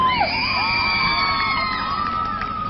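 An audience cheers, whoops and shouts for a dance performance by a dance group at a cultural program, loud and sustained crowd noise with high-pitched yells throughout, no clear talking.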